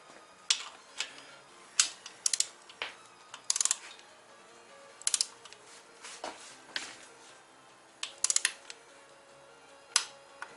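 Sharp ratcheting clicks from a torque wrench tightening bolts on a 1.8T short block during engine assembly, coming in short irregular bursts of ticks at close range with quiet pauses between them.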